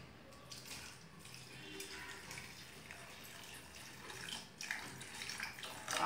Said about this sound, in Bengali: এইবার দিয়ে দেব ঈষৎ উষ্ণ জল